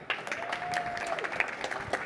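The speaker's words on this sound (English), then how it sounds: "Big applause for Martin." Audience applause for a panel speaker at a broadcast industry conference, a steady spread of clapping lasting about two seconds at moderate level with a faint tone running through it.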